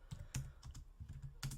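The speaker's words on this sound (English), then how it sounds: "I'll have to type that in because it's too far to scroll." Bursts of typing on a computer keyboard, several quick clusters of clicks at close range with short pauses between, no voices.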